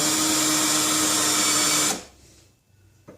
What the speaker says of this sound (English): we'll go in with the center drill. Make a spot.